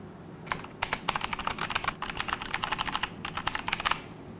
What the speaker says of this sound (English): Let's have a listen at what it sounds like to type on this keyboard.